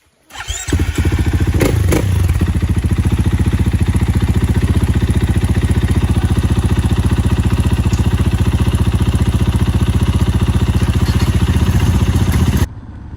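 A motorcycle engine runs steadily and loudly at the start of a long motocamping trip, with a deep continuous throb that holds for about twelve seconds before cutting out. No one speaks.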